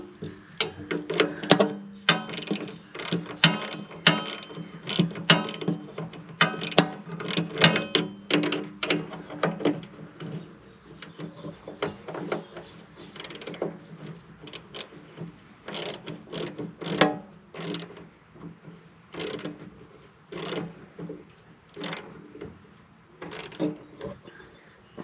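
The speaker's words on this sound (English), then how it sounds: "A nice little socket ratchet works pretty good for this because it's a limited space to get into." A small socket ratchet clicks in quick irregular runs while a step motor is replaced on a 2016 Winnebago View, close and distinct in a cramped space, with pauses between bursts of turning.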